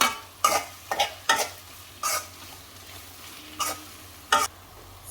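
Green chillies fry in a pan while being stirred, giving a low steady sizzle broken by several sharp, loud scraping strokes of the spoon at irregular intervals.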